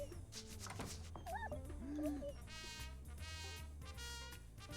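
A dog whimpers and yips in the video game Neighbour Back From Hell, high thin whines rising and falling over a steady game soundtrack, fairly quiet overall.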